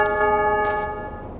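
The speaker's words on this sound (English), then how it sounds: "we are going to shoot this bell on the top of the chapel" A chapel bell in a Tomb Raider level editor game rings once when shot, a clear metallic clang with a sustained tonal hum that slowly fades away.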